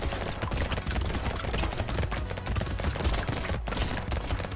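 A machine gun in the arcade shooter Brotato fires a rapid, dense, unbroken stream of loud shots with crackling impacts that last the whole stretch.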